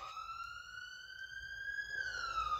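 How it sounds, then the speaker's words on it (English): Emergency vehicle siren wailing in a steady, slowly rising and falling tone, heard at a distance and fairly faint over low background rumble, with no talk. "I don't know if those sirens are a sign of something, confirmation of someone, or a warning."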